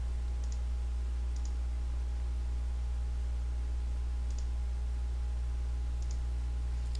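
A few sparse, quiet mouse clicks made while placing points in Photoshop CS4, heard over a steady low electrical hum with no talking.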